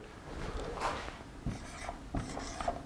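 Chalk or marker strokes on a board as the pinyin of a Chinese word is written, a few short scratchy bursts in a quiet room with no talking.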